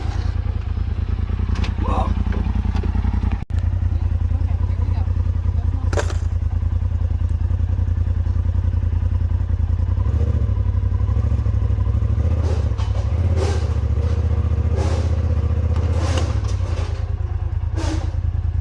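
An off-road machine's engine idles and is given light gas in a steady loud close drone with slight rises, while occasional thumps and clatter sound and a person speaks over it.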